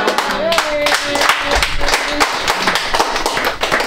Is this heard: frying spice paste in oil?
no